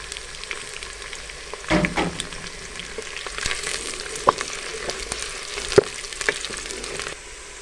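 Steady sizzling of garlic frying in a hot pan, with occasional stirring scrapes and small pops, close by and with no speech.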